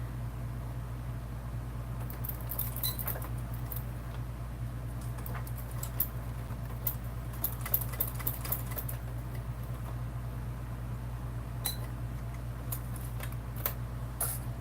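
A sewing machine stitches standard cotton fabric for a bag, a steady close motor hum running continuously under faint, scattered ticking clicks, with no voices.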